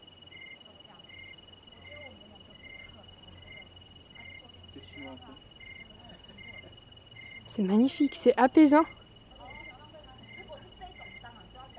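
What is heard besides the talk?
toads, grasshoppers and crickets at night, Zion National Park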